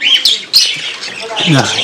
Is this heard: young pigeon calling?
yes